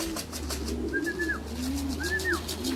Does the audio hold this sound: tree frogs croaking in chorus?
no